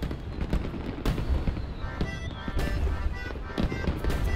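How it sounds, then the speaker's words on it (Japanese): Fireworks burst in a busy, crackling barrage with sharp bangs at intervals, loud and fairly close, no voices on top. "するとそこにドカーンと花火が上がりました"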